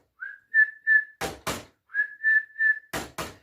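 Short, clear whistle notes sound in two groups of three, each group followed by a pair of sharp, loud clacks, close and without talk.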